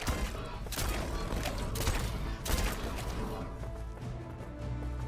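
Rapid auto-fire crossbow shots in the Ark video game, Lost Colony, come as a dense run of loud thuds and impacts in a quick burst, with no talk over them.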